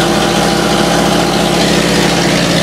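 An International 504 tractor engine idles steadily after a hard cold start, a loud, close, continuous low rumble with an even mechanical throb and no talking.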